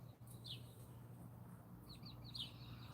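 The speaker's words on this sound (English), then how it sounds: "Yeah, the birds are out" Small birds chirp outdoors near a shop, with a few short high tweets coming and going over a steady low hum and background noise.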